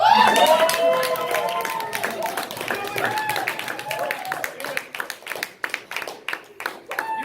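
A convention panel audience cheers on a hot pepper eater, with loud whoops and shouts at first, then scattered clapping that grows into rapid, uneven applause, close and lively, with voices calling out amid it.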